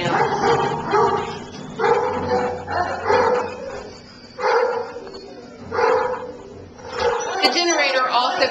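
Dogs bark and yip repeatedly in an animal shelter's dog adoption area during a snowstorm power outage. The barks come in loud, close bursts over the whole stretch, and a person's voice is heard among them.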